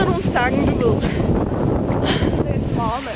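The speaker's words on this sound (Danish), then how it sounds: "Det blæser virkelig meget" Strong gusting wind buffets the microphone outdoors at a Vejle Boldklub versus Esbjerg fB football match, a steady heavy roar with bursts of distant crowd chanting and voices underneath.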